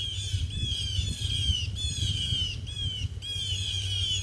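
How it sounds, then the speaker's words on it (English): Birds squawk in a loud, rapid series of harsh, repeated calls that pulse in quick bursts over a low steady hum, with no speech. "The birds agree."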